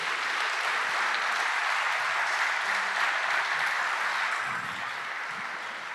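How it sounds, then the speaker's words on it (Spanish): A church congregation claps loudly and continuously, a dense wash of applause that fades slightly toward the end. "Le das palmas fuertes al Señor por eso."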